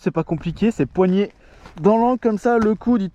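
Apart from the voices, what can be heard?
No everyday noise stands out behind the speech.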